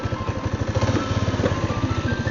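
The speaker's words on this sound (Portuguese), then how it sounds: "Deixa eu ligar a moto aqui e você sobe." A motorcycle engine runs at a steady, rumbling idle just after being started, with a close, even pulsing beat that continues throughout, with no voices.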